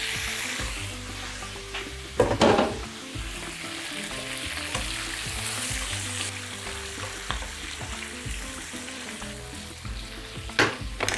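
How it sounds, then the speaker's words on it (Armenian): Vegetables sizzle steadily in a pan that was just used to fry beef, a constant crackle broken by a couple of sharp clatters from stirring. "այս տապակի մեջ, որի մեջ տապակում ենք միսը, լցնում ենք բանջարեղենը"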